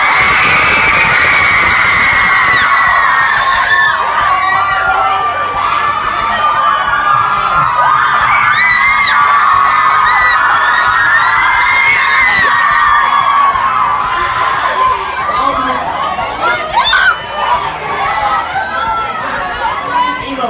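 A loud crowd at a concert meet-and-greet cheers, whoops and screams continuously for about twenty seconds, with children shouting and chatter mixed into the roar.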